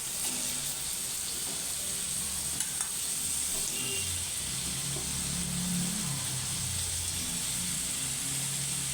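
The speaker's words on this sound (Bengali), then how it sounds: "আমার তেলটা গরম হয়ে গেছে এবার আমি এর মধ্যে আলুগুলো দিয়ে দিচ্ছি" Potatoes sizzle steadily in hot oil for an egg-and-potato bhujia, a continuous even hiss with faint clinks and soft stirring scrapes now and then, no one speaking.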